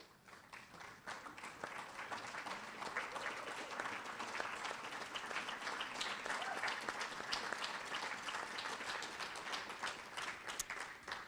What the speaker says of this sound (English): Please stand at this time for a round of applause.